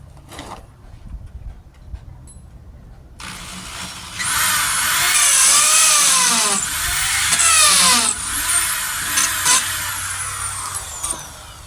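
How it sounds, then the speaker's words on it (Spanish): A power drill bores a hole after a few quiet handling knocks, its motor whining loudly and close for several seconds with rising and falling pitch sweeps as it works through the material. "Ahora vamos a hacerle el orificio acá."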